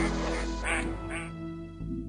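Ducks on a lake on Isla del Coco quack in two or three quick calls over a steady background rumble, with speech faintly mixed in.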